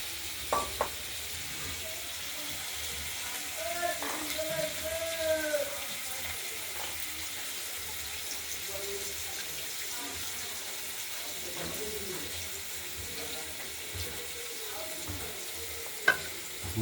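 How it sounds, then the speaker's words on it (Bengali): Potatoes fry in a pan with a soft, steady sizzle. A voice talks intermittently over it. "আলুটা ভাজা হোক"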